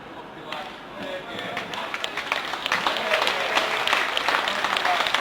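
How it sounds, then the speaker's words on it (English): A crowd at a junior lawn bowls event applauds a young player after a narrow 21-20 defeat, the clapping starting light and swelling into a sustained, dense round of applause. "Young Ben just got beat, 21-20, with a tremendous round of applause"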